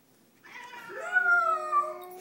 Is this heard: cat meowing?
yes